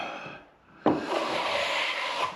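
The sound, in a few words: carbon steel plastering trowel skimming a ceiling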